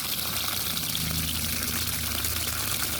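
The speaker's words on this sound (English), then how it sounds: "Watering her well for the heat." A Fragrant Plum rose in a summer garden being watered, with a steady, close rush of water spraying and splashing continuously over a low mechanical hum.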